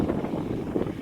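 Steady wind on a Colorado mountain buffets the microphone in a continuous low rumble, fairly loud and unbroken for about a second, with no talk.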